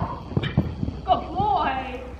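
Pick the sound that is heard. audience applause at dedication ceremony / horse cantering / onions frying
horse cantering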